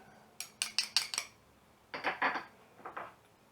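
Spice rub of chipotle pepper, coffee grounds and dried mustard being stirred in a bowl, a quick burst of five sharp clinking scrapes, a pause, then several more softer scraping taps, close and alone.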